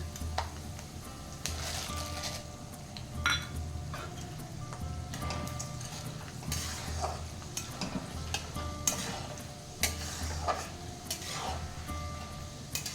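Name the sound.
roasting peanuts and dal in a pan for poha chiwada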